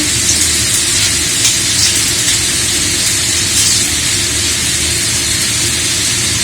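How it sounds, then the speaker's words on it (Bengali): Panch phoron spices sizzling in hot oil in a wok, a steady, loud, even hiss running throughout with no pauses. "কড়াইয়ে তেল গরম হয়ে গেছে"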